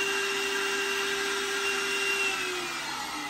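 PWNCNC 1.5 kW 65 mm CNC spindle switching off after running at 24,000 RPM, a loud close steady whine that begins to drop in pitch as it spins down, with no talking.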